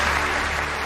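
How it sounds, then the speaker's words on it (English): A studio audience gives steady, dense applause for Zara Phillips at the BBC Sports Personality of the Year 2006 ceremony, a loud continuous wash of clapping with no speech. "To rapturous applause from the studio audience"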